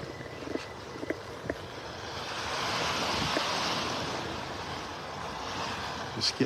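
Soft, steady surf washing in and swelling at Naples Beach in North Naples, Florida, with light wind and a few faint, distant clicks under the wave rush.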